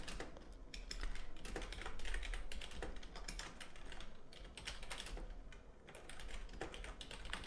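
Quick, light keystrokes on a computer keyboard while text is entered in Adobe XD, a close, continuous run of clicks with uneven bursts and short pauses, quiet overall and free of speech.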